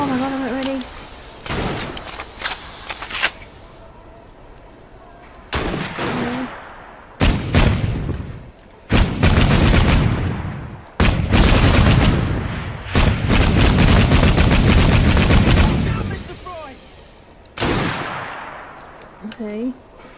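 Gunfire bursts and booms in Assassin's Creed Syndicate, coming in loud repeated volleys with short gaps between them, mixed with other game noise and a voice talking over it.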